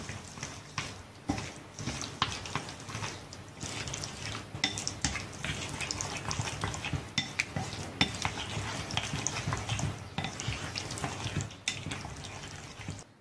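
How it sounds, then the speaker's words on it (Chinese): Toon leaves and egg batter stirred in a bowl in a rural kitchen, a steady run of close, busy scraping and clattering strokes that goes on without pause and without talk. "给它搅拌均匀。"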